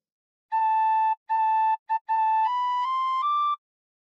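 A tin whistle plays a phrase of the sea shanty Drunken Sailor as a run of clear, bright sustained notes: four steady repeated tones with short gaps and one quick blip, then three slightly rising notes, played alone and close.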